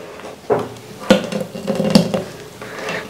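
Millet idli batter, ground in a mixie, is stirred by hand in a vessel, producing three distinct knocks and scrapes against the container over a soft wet churning sound.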